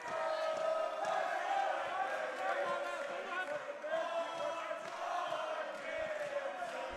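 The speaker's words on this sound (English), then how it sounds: "The crowds, the support of each fighter, the singing is going back and forth." A large crowd at an Akuma FC fight event roars and chants in a continuous, dense wash of voices, like singing in a football stadium, sustained and fairly close throughout.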